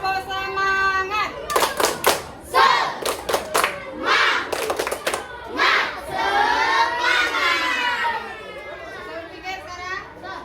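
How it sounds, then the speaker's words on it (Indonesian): A classroom of primary-school children performs a rhythmic spirit clap chant, quick bursts of unison claps followed by loud shouted chanting, with a teacher's voice leading in between. "kita tepuk semangat dulu"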